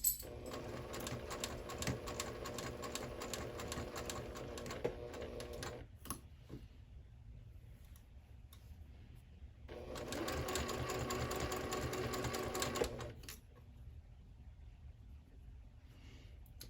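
A sewing machine runs slowly, stitching two layers of pillow fabric close to the edge. It hums and rattles steadily in two long bursts separated by a pause, close and clear.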